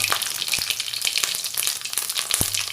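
Mustard seeds, urad dal, cumin and fennel crackle and fry steadily in hot oil, a dense close sizzle with scattered pops, including a sharp one near the end, throughout.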